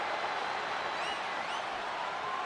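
A capacity arena crowd roars with steady, dense cheering during a no-holds-barred wrestling match in WWE 2K25, a continuous wash of noise with a few faint whistles rising above it.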